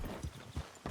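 Horse hooves clip-clopping in Red Dead Redemption 2 in the Saint Denis chapter: three soft, muffled hoof thuds at an easy walking pace, faint and fairly distant.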